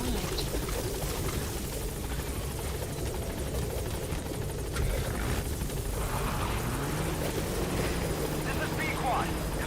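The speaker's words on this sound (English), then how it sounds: "Helicopter has arrived." A helicopter in the video game Metal Gear Solid V arrives at a landing zone, its rotor and engine roar steady and loud throughout, with a game radio voice talking over it.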